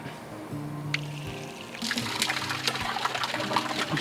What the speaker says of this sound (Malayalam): ഈസി ആയിട്ട് വെള്ളം വരുന്നുണ്ട്